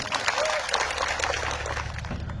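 Crowd applause fills a political public meeting in Mora, Gujarat: dense, steady clapping held at an even level throughout, with a voice faintly mixed in.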